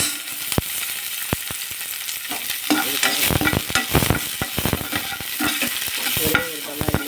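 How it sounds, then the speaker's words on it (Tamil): Masala with onion is stirred and fried in a pan, steady sizzling under repeated sharp scraping and clinking strokes of the spoon, close up with a brief spoken word. "இப்போ அந்த மசாலா வதக்கணும் இல்லையா"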